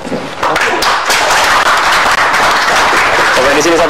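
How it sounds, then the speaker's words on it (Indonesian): Studio audience applauding at the close of an Indonesian television talk show interview with a politician, a dense, steady wash of clapping lasting several seconds with voices mixed in. "Boleh tepuk tangan?"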